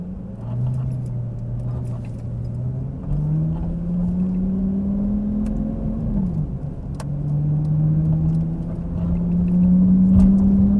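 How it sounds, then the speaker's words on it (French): A Lamborghini Gallardo Superleggera engine drones steadily from inside the cabin while driving, with its pitch climbing through the gears, dropping at a shift and rising again in a smooth continuous hum. "c'est la première fois que je conduis une Superleggera"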